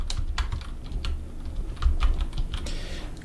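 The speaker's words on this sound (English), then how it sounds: "you can listen to the typing ASMR" Fingers type steadily on a computer keyboard while writing Python code, a close, continuous patter of key clicks with a low background hum.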